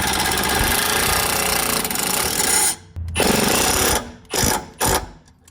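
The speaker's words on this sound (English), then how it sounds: "you can use a 13mm socket to secure everything in place" A power tool with a 13mm socket rattles continuously while tightening a nut on a Jeep Wrangler JL lift kit bracket, then finishes in several short bursts, loud and close.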